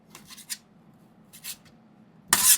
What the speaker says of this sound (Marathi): तर आता चिकनचे असे बारीक पीसेस करून घ्यायचे आहेत आपल्याला.